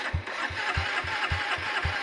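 A stalled motorcycle's engine turns over and fires up, with evenly spaced low thumping pulses in a steady rhythm, loud and close, riding on a broad background rumble.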